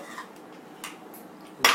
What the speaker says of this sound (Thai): ตัดเค้ก ตัดเค้ก ตัดเค้กก่อน